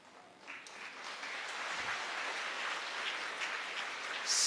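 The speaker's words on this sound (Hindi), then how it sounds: "आपने तो अंधाधुंध तालियां बजा दी" A large audience breaks into wild applause at a Hindi religious talk, the clapping swelling quickly into a dense, sustained roar that holds steady for several seconds.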